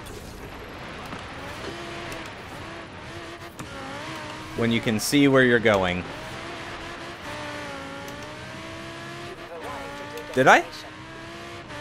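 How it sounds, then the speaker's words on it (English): A 2013 Audi R8 Coupe V10 Plus 5.2 FSI quattro engine hums steadily in Forza Horizon 3, with two short revving bursts rising in pitch, under near-constant talking. "this 2013 R8 does seem to be quite the fun rally car"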